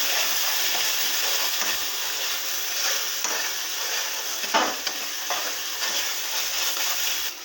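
Spice masala with chilli powder, salt and turmeric fries and is stirred in a pan, giving a steady close sizzle with scraping stirring strokes throughout, no voices.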